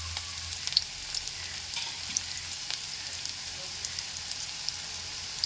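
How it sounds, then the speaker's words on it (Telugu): Chopped onions frying in hot oil for a cauliflower and tomato curry make a steady, fairly soft sizzle that carries on evenly, broken by small crackles and pops, with no talking. "ఇప్పుడు ఇదిగో ఉల్లిపాయలు వేసాను."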